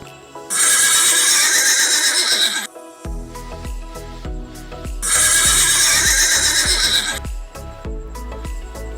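A horse neighs loudly twice, each long shrill whinny running about two seconds, with rhythmic hoof clip-clops and a low steady background filling the pauses between.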